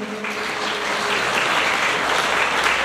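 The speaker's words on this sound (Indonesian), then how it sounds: "Tepuk tangannya mana untuk beliau?" Loud, dense audience applause in a hall at a motivational session about going to Korea in Tulungagung, sustained and even from start to finish, with a low hum underneath.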